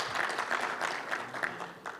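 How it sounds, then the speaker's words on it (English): Brief applause from a conference audience at a customs and trade gathering, a soft patter of clapping with a few distinct claps, fading toward the end, heard from some distance. "They deserve a clap."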